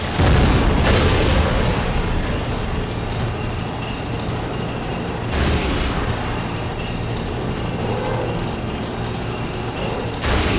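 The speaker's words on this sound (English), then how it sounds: "Missile strike." A missile strike explosion in the Battlefield 2 Modern Combat video game, a loud sustained roar with heavy low rumble and bursts of blast noise near 0.8, 5.3 and 10.5 seconds.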